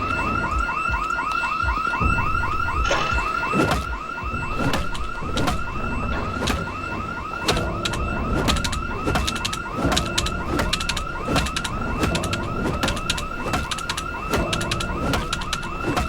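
A car alarm blares in the zombie survival game Project Zomboid, a loud, steady, repeating electronic warble cycling continuously throughout with no pauses.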